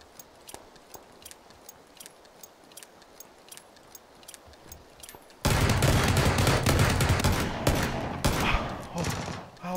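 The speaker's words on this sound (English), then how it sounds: "I jumping headshot him with the revolver." Gunfire in the PUBG battle royale shooter: steady faint clicks give way to a sudden, loud, dense burst of shots and blasts that lasts several seconds, close and harsh.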